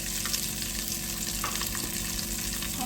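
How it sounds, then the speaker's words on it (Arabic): Fifteen whole unpeeled garlic cloves sizzling in hot oil for a meat tagine, a loud, continuous close-up frying hiss with faint stirring, no voices. "مكان بقى الزيت ده هنحط 15 فص ثوم زي ما هما، مش هنقشرهم ولا نعمل فيهم اي حاجة."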